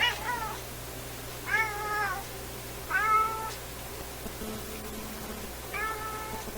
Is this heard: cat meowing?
yes